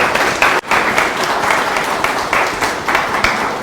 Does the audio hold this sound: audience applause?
yes